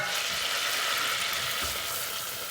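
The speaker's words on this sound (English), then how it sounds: "Sorry, it's dark, so just going to add in the flour" Flour added to melted butter in a pan for a chicken and leek pie, producing a dense, even frying hiss up close with no one speaking.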